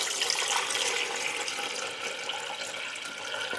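Steady stream of cold water pouring and splashing into jars, a bright continuous hiss with no talking.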